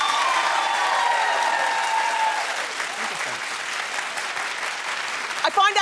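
Studio audience applause on a talk show, a dense wash of clapping that starts strong, thins gradually into scattered claps, and ends with a voice breaking in.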